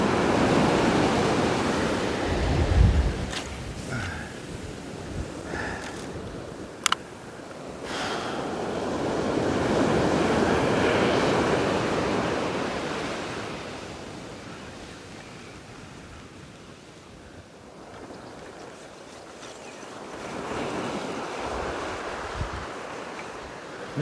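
Surf rolling in and breaking on a beach at high tide near Kalbarri, Western Australia, a steady wash of broad noise that swells and recedes in slow surges, close and fairly loud with wind on the microphone and no voices.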